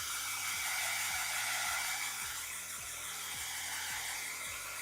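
A hair dryer blows over a watercolor painting with a steady, even airy whoosh and a low motor hum, fairly faint and unbroken for the whole stretch.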